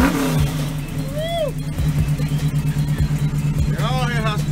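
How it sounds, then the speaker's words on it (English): A Chevrolet Malibu engine blips and revs with a raspy exhaust in a series of rhythmic throttle pulses, close and loud, with a voice heard briefly. "Give them a little gas so they can see how raspy this thing is."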